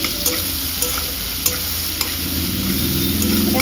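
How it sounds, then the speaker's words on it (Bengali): Small fish frying in a pan while being stirred, a continuous sizzle broken by a few sharp scrapes of the spatula, close by and with no voices. "তো চলো, এটা একটু ভাজা হোক ভালো করে"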